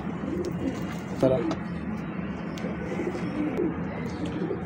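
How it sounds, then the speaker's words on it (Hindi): Soft, low pigeon coos repeat under a steady background murmur, with a slightly louder bird call about a second in. "ये कबूतर है मेरे भाई"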